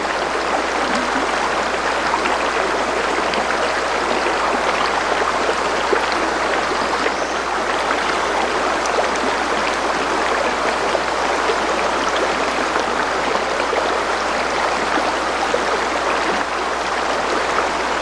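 River water flows steadily beside a campsite, making a continuous, fairly loud broadband rushing and trickling that holds unchanged for the whole stretch with no voices.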